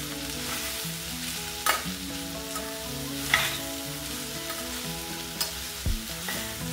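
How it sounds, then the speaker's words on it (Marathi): Okra frying in a pan and being stirred, a steady close sizzle with occasional scraping strokes of the spoon, no voices. "आता ही भेंडी आपण हलवून घेऊया।"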